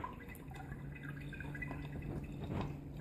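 Home-brewed beer with heavy sediment is strained during bottling, giving faint, sparse drips and a soft liquid trickle against a quiet room hum.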